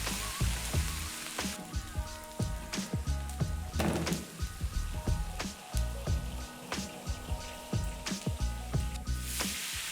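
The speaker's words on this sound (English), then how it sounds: "Put the livers in the oil. Mix them and listen for the crackling" Lamb livers for Turkish cokertme kebab frying in hot oil, a steady dense crackle and sizzle with popping throughout, close and continuous.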